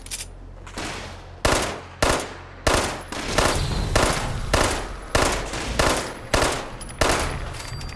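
Rapid bursts of automatic gunfire from a weapon in Fallout 76, about a dozen sharp loud volleys in a steady rhythm, each cracking then decaying, with little else around them.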